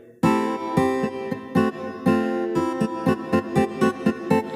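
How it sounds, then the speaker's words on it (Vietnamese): Electric guitar voice on an accompaniment keyboard playing a bright, rhythmic run of sustained chords and short stabs, loud and close, ending in a series of evenly spaced choppy hits. "tiếp theo đó là tiếng guitar điện"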